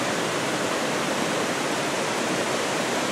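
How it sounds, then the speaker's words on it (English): Water tumbling down through narrow rock passages of Yellow Creek in Graham, North Carolina, a loud, steady, close rushing roar with no pauses and no voices. "So, that's a lot of water tumbling down there."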